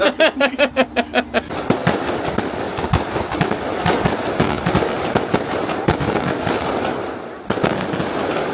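Fireworks go off at an amusement park at night, first in a rapid rhythmic string of pops, then in dense, loud, crackling bursts that continue to the end.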